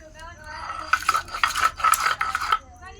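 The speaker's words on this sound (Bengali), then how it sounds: "এবার মশলাটা আমি বাটছি।" Chili, garlic, ginger and chopped onion are ground into masala on a flat grinding stone, a rough rhythmic rasping in about six quick strokes, close and fairly loud.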